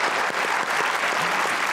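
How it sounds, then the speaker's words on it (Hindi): A studio audience at a comedy talk show claps in a dense, steady burst of applause, loud and close, running the full short stretch without any talking over it. "तालियां बजाएं यार"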